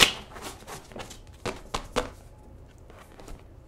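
Tarot cards being shuffled by hand at close range, a series of soft, quick riffling taps and flicks in short bursts, with quieter pauses between them.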